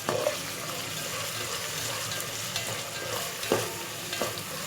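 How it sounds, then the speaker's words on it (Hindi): Chana dal frying in a hot pan for a dhaba-style fry dal, a steady close sizzle with occasional scraping strokes of a spoon stirring through it. "अब मैं इसे सही से फ्राई कर लूँगी।"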